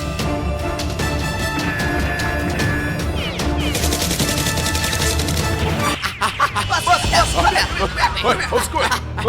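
Nerf guns fired during an indoor Nerf war, rapid bursts of clattering shots and mechanical clicks amid excited shouting, chatter and laughter.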